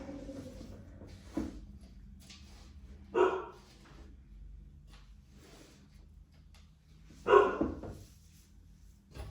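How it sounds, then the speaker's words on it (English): Dogs bark near a garden where pepper seeds are being planted, with two short separate outbursts several seconds apart over quiet background rustling. "Apologize for the dogs, guys."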